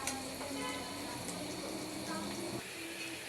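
Peppercorns, cardamom and cinnamon frying in the oil used for fried onions, for beef kacchi biryani: a continuous soft sizzle with faint clinks, fairly quiet and steady, with no clear speech.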